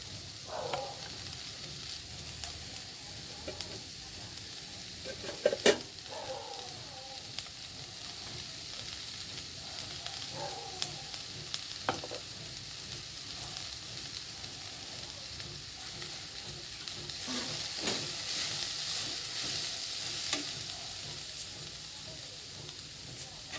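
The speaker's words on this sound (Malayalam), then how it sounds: "അപ്പോൾ നമ്മൾ അരപ്പ് ചേർത്ത് നന്നായിട്ടൊന്ന് ഇളക്കണം" Agathi leaf thoran fries softly in a pan as ground coconut paste is stirred in, a low steady sizzle broken by occasional scrapes and taps of the spoon.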